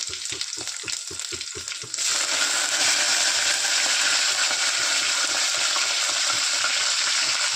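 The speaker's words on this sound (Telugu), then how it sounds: "కొంచెం ఆవాలు, జీలకర్ర వేస్తున్నాను" Mustard seeds, cumin and curry leaves hit hot oil, a loud, dense sizzle that bursts in abruptly after a few soft knocks and then hisses steadily without pause.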